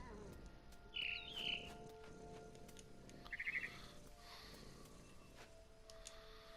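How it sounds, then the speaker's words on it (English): Faint, high barn swallow chirps in the video game What Remains of Edith Finch: two quick calls close together, then a short trill a couple of seconds later, over a quiet low hum. "Then I heard chirping outside my window. It was a barn swallow going back to her nest."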